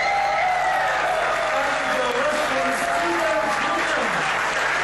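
Loud, continuous applause and cheering fill a room at FISU headquarters in Brussels after a vote, a dense crowd clapping steadily throughout with no pauses.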